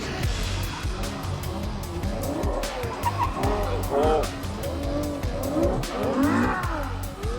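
Ferrari F12 sliding sideways with tires squealing in long wavering screeches over a loud, steady engine roar, with a voice talking over it throughout.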